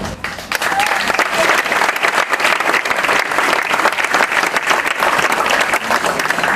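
Dense, steady applause from a concert audience for a band at the Kabarliv la kréolité Creole music night in Le Port, Réunion, loud and continuous throughout with crowd noise mixed in.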